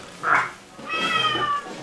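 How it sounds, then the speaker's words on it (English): A cat meows twice close by: a short call, then a longer, drawn-out wavering meow, with no talking. "Cat, yeah, cat's not impressed."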